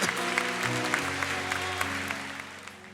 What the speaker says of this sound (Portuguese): Aplauda o Rei.